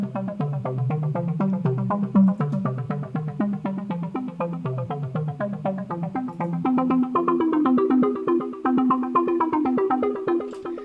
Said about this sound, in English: create this laser style pluck sound